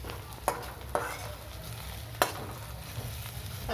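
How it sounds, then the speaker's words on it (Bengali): Spice masala with bay leaf, cardamom, cloves and onion being stir-fried in a kadai for chicken kosha, a steady close sizzle broken by a few sharp scraping strokes of the spatula. "মশলাটা কষা হচ্ছে"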